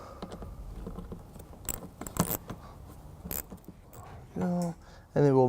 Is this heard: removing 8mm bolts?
yes